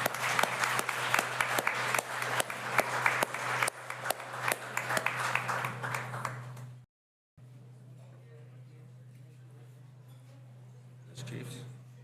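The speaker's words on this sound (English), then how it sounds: "Give them all a big round of applause." An audience at a conference applauds, dense clapping loud and continuous for several seconds before cutting out, then faint room noise with a short stir of sound near the end.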